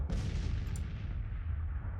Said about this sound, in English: Okay, I hear shots.